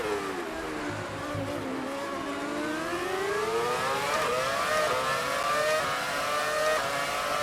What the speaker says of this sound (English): we have one of the V10 Williams coming up on us